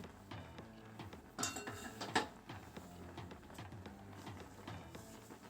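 A spoon scrapes and clinks against a pot while boiled bottle gourd and pumpkin greens are stirred, with quiet irregular metallic taps and a couple of sharper knocks close by.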